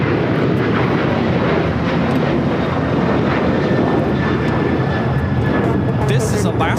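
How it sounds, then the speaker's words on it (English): An Alaska Airlines Boeing 737-900ER jet takes off at LAX, a loud, continuous engine roar with broadband rushing noise throughout, and people talk over it. "This is Alaska Airlines 1430 taking off to Puerto Vallarta on the 737-900ER."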